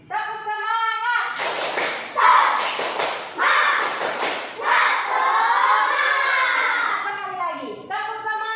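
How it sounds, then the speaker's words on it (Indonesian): Elementary school children in an Ambon classroom do a rhythmic spirit clap in several quick bursts, with voices chanting along before, between and after the claps. "Tepuk semangat."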